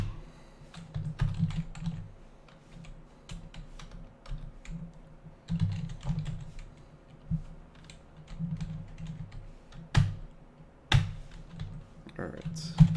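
Fingers type on a computer keyboard in quick irregular bursts of clicks, with a few louder key strikes and a low background hum.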